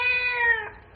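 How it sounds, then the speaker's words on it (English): A single cat meows from under a waterfront warehouse, one clear, drawn-out cry that falls in pitch and fades over about a second. "I was sure I heard a cat squalling under that warehouse."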